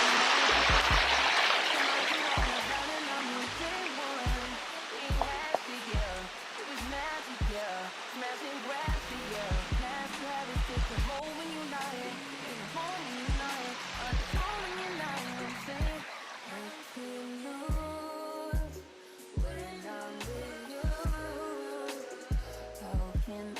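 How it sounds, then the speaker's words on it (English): Waterfall in a natural outdoor setting, a steady broad rush of falling water that stays constant throughout, with a person speaking over it at moments. "listen to the sound of this waterfall"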